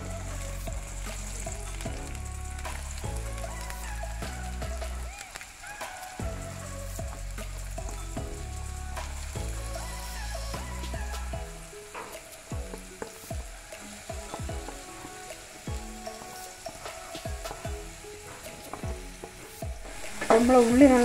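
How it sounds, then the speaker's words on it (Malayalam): Two chopped big onions frying in sunflower oil, a strong continuous sizzle with stirring scrapes throughout, close and loud, while music plays softly underneath. "സൺഫ്ലവർ ഓയിൽ ഒഴിച്ച് അതിലേക്ക് ഞാൻ 2 വലിയുള്ളി അരിഞ്ഞ് വെച്ചിട്ട് അതിടുന്നുണ്ട്."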